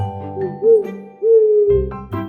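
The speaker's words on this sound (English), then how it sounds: "O is for owl." An owl hoots in two drawn-out, tonal calls, loud and close, set against a faint musical backing.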